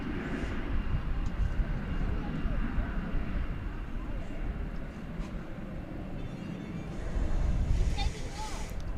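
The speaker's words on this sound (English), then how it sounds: "3072 from Seattle is just about to touch down. It's an Airbus A321." An American Airlines Airbus A321 touches down on a DFW Airport runway, a steady broadband jet roar that swells briefly near the end, heard from a distance with airport ambience.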